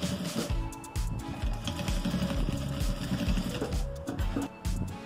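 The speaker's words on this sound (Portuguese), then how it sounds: "vou costurar aqui em cima da linha do que eu já tinha" A sewing machine stitching over an existing seam on a crazy-patchwork fabric strip for a pencil case, a steady fast rhythmic needle chatter and motor hum running continuously, close up with no speech.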